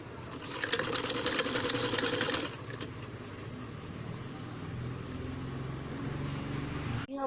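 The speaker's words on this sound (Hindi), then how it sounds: "तो इस प्रकार से अब हम इसकी स्टिचिंग करेंगे।" A sewing machine stitching a princess-cut padded blouse, with a fast steady whirring run for about two and a half seconds, close, followed by a lower continuous motor hum and a brief clunk at the end.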